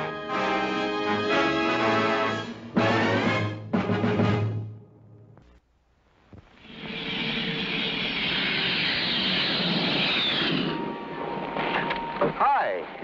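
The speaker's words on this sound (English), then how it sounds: "the Grumman Tiger. It's a jet" A Grumman Tiger jet aircraft roars steadily for several seconds, loud and close with a broad rushing tone, after a stretch of speech and a brief near-silent gap.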